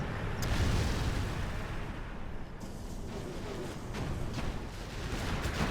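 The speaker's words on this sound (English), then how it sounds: "Another TNT on a building here." A TNT charge detonating against a building in the real-time strategy game Command & Conque Generals Zero Hour, a muffled low boom within a dense, continuous rumble of battle noise, with no voice over it.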